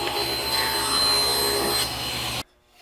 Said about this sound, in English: Right back to the table saw